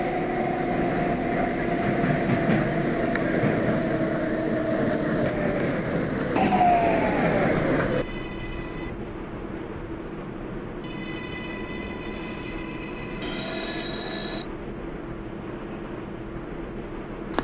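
A Manhattan-bound 6 local subway train rumbles loudly along the track, its wheels squealing in rising and sustained metallic tones, then the roar drops to a quieter steady hum with faint high whines and chimes as it slows.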